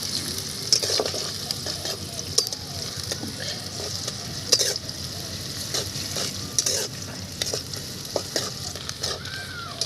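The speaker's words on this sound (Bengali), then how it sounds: "এখন পেঁয়াজ কুচিটাকেও নেড়ে নিচ্ছি ভালোভাবে" Chopped onions for chicken kosha fry in a pan while being stirred, with a steady close sizzle punctuated by repeated sharp spatula scrapes and knocks against the pan.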